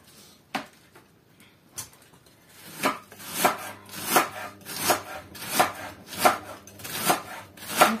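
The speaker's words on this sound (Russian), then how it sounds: "Вот так вот нарезаю." A knife slices a dense head of cabbage in a steady series of rhythmic chops, close and fairly loud, after a few scattered slower cuts.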